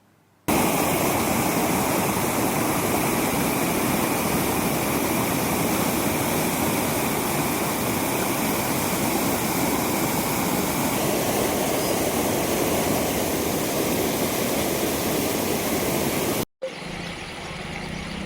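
Floodwater after overnight rain roars over the weir of an overflowing large lake, a loud, steady rushing torrent that fills the whole recording without a break, cutting off abruptly near the end.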